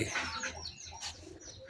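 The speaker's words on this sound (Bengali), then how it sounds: "দেখেন কবুতরটা কেমন" A pigeon in a village coos softly in short, low murmuring calls, fairly faint against quiet background noise.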